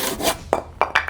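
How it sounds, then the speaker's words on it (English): A hand saw cuts through a clamped piece of timber in a home shed. A few short, rasping strokes come through close and fairly loud after a quieter scraping start. "Now you can see I'm cutting through my timber here."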